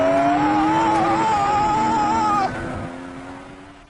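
A sports car engine revs hard and close, its pitch wavering high, then drops sharply and fades away as the car moves off.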